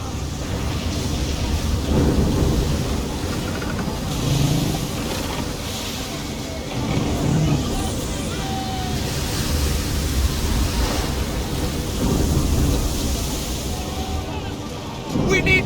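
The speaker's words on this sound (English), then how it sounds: "You wish us to sail into the storm?" A thunderstorm at sea from a sailing ship's deck: continuous roaring wind, rain and crashing water with low rumbles swelling and easing.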